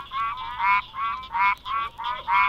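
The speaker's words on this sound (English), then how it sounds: "is Anderson's tree frog, Hyla andersonii, found from central New Jersey to North Carolina." An Anderson's tree frog (Hyla andersonii) calls in North Carolina, giving a regular series of nasal, honking notes about three per second, loud and close against a faint night background.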